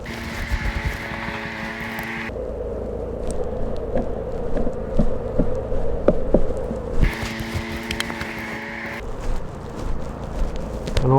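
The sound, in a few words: honey bees buzzing, nurse bees on hive frame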